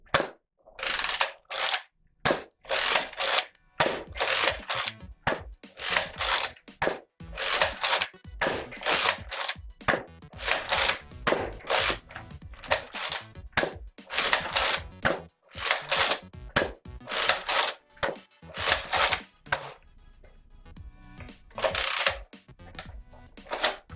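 A Nerf Slingfire lever-action blaster is repeatedly cycled and fired, giving a rapid series of loud, sharp mechanical clacks and ratcheting snaps in quick bursts with brief gaps between them.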